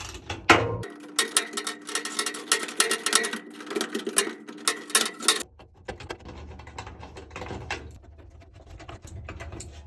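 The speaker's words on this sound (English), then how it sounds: "they're using that 1/4 inch socket to remove them right here" A 1/4 inch socket unscrews two screws from a Whirlpool dryer panel, giving rapid ratcheting ticks and clicks in close bursts, then a quieter stretch of faint rustling and handling noise.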